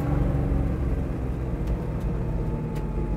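A 1967 Camaro convertible restomod runs through new headers and a new exhaust, giving a continuous, loud, deep engine drone with no talking over it.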